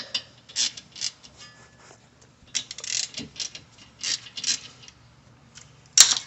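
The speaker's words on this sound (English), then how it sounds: "Take this bolt out." Loosening and removing a brake caliper pin bolt during brake service: a series of short metallic ratcheting and scraping bursts at close range, irregularly spaced, ending with a sharp metallic clink.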